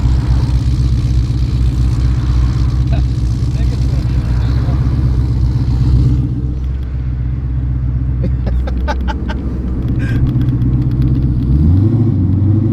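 Deep, loping Chevrolet Caprice engine idle rumbles up close with an uneven, choppy pulse, steady throughout, with a few clicks and a brief swell near the end.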